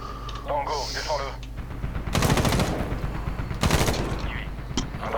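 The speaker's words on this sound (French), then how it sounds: "Allez, on va essayer d'aller jusqu'à la grosse mitrailleuse." Heavy machine gun fire in the Medal of Honor video game, two loud bursts of rapid shots over game effects and some background voices.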